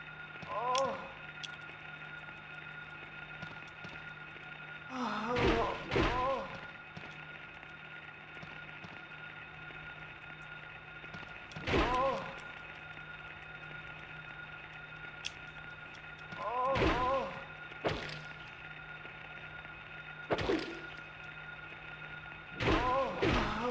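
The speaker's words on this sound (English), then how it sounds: "And smash them as quick as we can." A melee weapon smashing enemies in Silent Hill, a series of sharp heavy thuds and cracking impacts, repeated at irregular intervals several seconds apart over a quiet droning ambience, each strike followed by brief grinding clatter.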